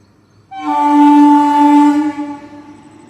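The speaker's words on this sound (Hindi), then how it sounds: "तो आ गई ट्रेन, दिखाते हैं आप लोगों को। ट्रेन आ गई, देखो" A train sounds a loud, sustained horn close by as it arrives, holding one steady tone for about a second and a half before fading.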